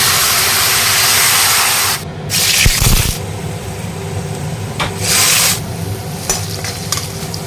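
Water poured onto fish heads and small potatoes frying in a pan sets off loud hissing bursts, followed by scraping stirring and a softer ongoing sizzle, all close by.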